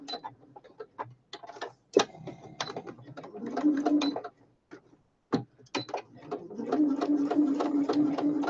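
A sewing machine stitches sari silk in short bursts, then in longer steady runs of close, rapid mechanical whirring with clicks between the runs.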